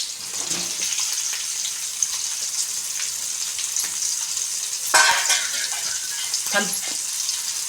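Chicken pieces frying with curry leaves in a pan hiss in a steady loud sizzle, with occasional stirring scrapes and a louder burst of spattering midway.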